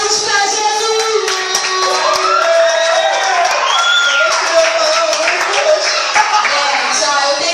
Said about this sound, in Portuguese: Cadê uma aplausos pra Jesus?